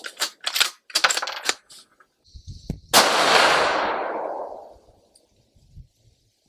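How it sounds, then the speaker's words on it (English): A .223 Remington Ruger Generation II Predator rifle fires one loud, sharp report that rolls off in a long, fading outdoor echo. It comes after a run of crackling bursts, and faint rustling follows. "Shoot a center mass with the 223"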